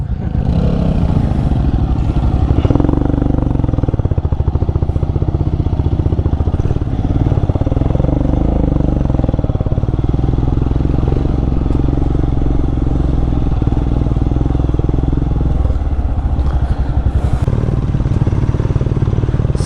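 A Royal Enfield Himalayan motorcycle riding a forest trail, its engine thumping loud and close throughout with steady throttle and some rattling clatter from the rough ground.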